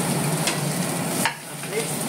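Parse fish frying in hot oil in a pan, a steady close sizzle with a faint stirring scrape, dipping briefly partway through, no talking.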